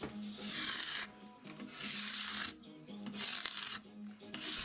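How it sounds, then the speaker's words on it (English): A spokeshave and card scraper shape and smooth the wooden handle of a giant mallet, giving repeated rhythmic rasping strokes close up, each a second or so long with brief pauses between. "So I decided to shape it a bit more using the spoke shave, smoothing it over again with a card scraper."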